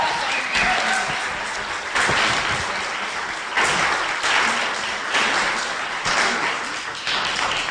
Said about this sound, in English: how about a round of applause for the whole court for everything?